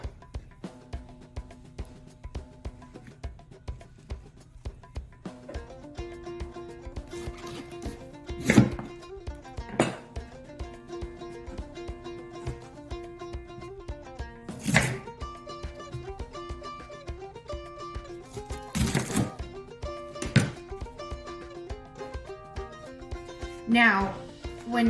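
A knife cutting through cabbage being prepared for homemade sauerkraut, with sharp chopping thuds spread across the stretch beneath steady background talk.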